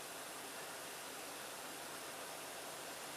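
Tap water runs steadily while a Focus Dynamic SE safety razor is rinsed mid-shave, a soft, even hiss of flowing water that stays faint and unbroken throughout.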